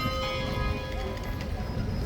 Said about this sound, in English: That is the 1/2 bell, folks.